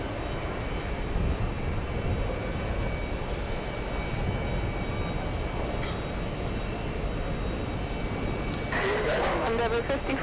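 Jet airliner engines roar steadily on a runway during takeoff at a busy airport, a loud continuous rumble throughout with faint background voices.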